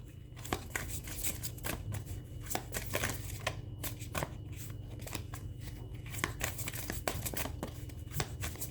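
A deck of cards is shuffled during a tarot-style reading, giving a quiet, steady run of crisp riffling clicks and flutters over a low background hum, close by with no talking.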